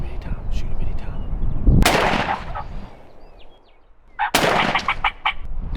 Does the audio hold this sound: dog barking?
no